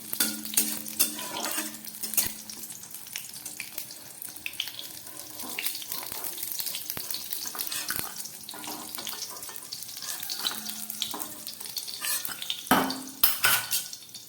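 Masoor lentil fritters sizzle and crackle steadily in hot oil in a home kitchen, with occasional utensil clinks and scraping throughout.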